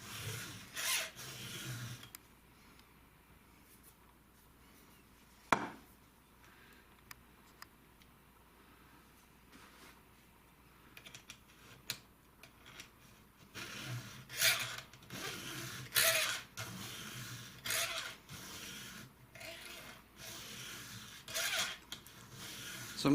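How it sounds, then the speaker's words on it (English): A hand file rasps across the cutting teeth of a dull chainsaw chain to sharpen it, in short rubbing strokes that are soft at first and become louder and more rhythmic in repeated bursts. "Filing into the tooth, it's easier to see what you're doing."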